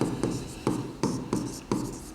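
Chalk or marker writing on a classroom board during a maths lesson, five short scratchy strokes in a steady rhythm, close and fairly quiet with no talk.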